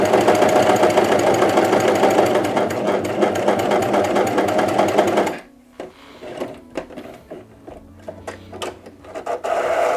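A sewing machine stitches a pyjama seam with a loud, steady rhythmic whir for about five seconds, then stops, leaving scattered clicks and faint handling noises.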